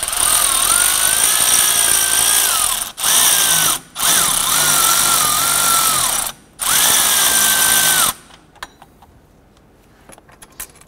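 A power tool runs loud and close in several sustained bursts with short pauses while a lower bolt is removed from the power steering pump on a 2008-2012 Honda Accord 2.4L, then stops, leaving faint clinks.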